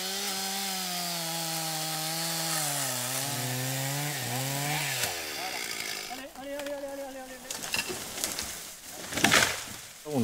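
A chainsaw cutting a tree during firefighter training in Haute-Saône runs loud and close, its revving pitch rising and falling, then turns rougher and broken as the cut proceeds.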